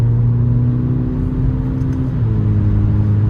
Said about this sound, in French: il y a un active sound, j'ai l'impression, ou du moins l'échappement se libère